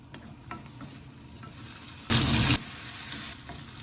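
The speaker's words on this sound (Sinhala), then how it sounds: "මේ විදියට සුදු ලුණු ටිකක් බැදගත්තාම හරිම සුවඳයි." Garlic sizzling in a little oil for a chicken dish, a steady close hiss with light stirring and a brief louder burst of sizzle midway.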